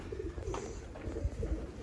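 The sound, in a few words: teddy pigeon cooing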